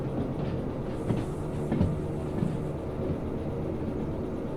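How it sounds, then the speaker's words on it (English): Train pulling into a siding in the Derail Valley railway simulator, with a low continuous rumble of rolling wagons and a few soft clanks and squeals, and no talk. "Just pull in sufficiently to get the whole train in the siding."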